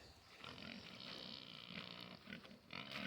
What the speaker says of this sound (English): Yeah, they're definitely pastured pigs.